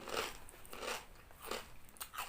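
Crunchy Thai fried pork rinds (khaep mu) being bitten and chewed close up, several loud crisp crunches spaced through a short stretch with no talk.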